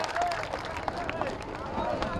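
Applause from the audience at a community meeting in Allahabad, a dense, steady patter of many hands clapping throughout, with crowd murmur and voices mixed in.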